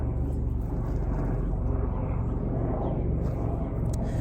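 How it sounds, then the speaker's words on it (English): A helicopter passes overhead outdoors, producing a dense, continuous low rumble and throbbing drone that fills the whole stretch, loud and steady with no talking. "sorry for the helicopter."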